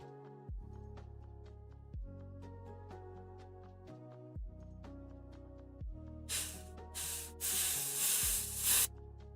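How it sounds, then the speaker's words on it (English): An airbrush sprays paint as an undercoat on miniatures, giving short, sharp hissing bursts in the last few seconds over quiet tonal background sound. "I have not streamed with the airbrush on my new setup."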